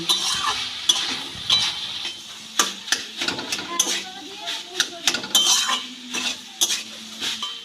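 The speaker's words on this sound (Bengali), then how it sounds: "খুন্তি দিয়ে এরকম চাপ দিয়ে দিয়ে একটু মাখা মাখা করে নেব" A spatula presses and mashes boiled cauliflower and potato in a pan, with repeated scraping strokes and soft clinks at an uneven rhythm, close by and moderately loud.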